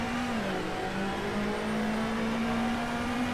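Ford Fiesta WRC rally car engine in the game WRC 8, droning steadily near full throttle with a brief dip in pitch, loud and continuous with no other sounds.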